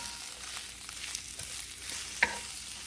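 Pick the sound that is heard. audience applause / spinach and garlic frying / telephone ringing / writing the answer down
spinach and garlic frying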